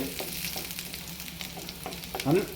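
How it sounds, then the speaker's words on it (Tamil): Ginger sautés in hot oil on its way to golden brown for a fish dish in oyster sauce, giving a continuous close sizzle with soft crackles and a few stirring scrapes, and no talk over it. "கோல்டன் ப்ரௌன் ஆகிற வரைக்கும் நல்லா வதக்குங்க."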